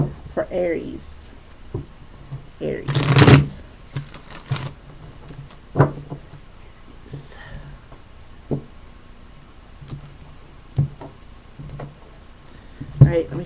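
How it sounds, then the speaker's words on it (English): Kitty Cat playing cards are shuffled in short, irregular bursts of papery riffling and tapping, with a few louder flutters, while a person talks between and over them. "let me shuffle up the Kitty Cat playing cards here real quick"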